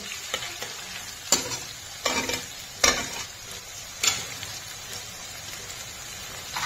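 Rice gets stirred into fried paneer in a hot pan, with a soft steady sizzle and several sharp spoon scrapes and clanks at irregular intervals.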